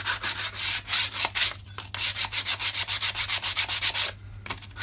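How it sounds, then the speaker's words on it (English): Hand sanding of a Honda VTR 1000 Firestorm rear wheel with 120 grit sandpaper: quick, steady back-and-forth scratchy strokes, close and loud, with two short pauses and no talking. "it shouldn't be too difficult to clean this up. Just using some 120 grit."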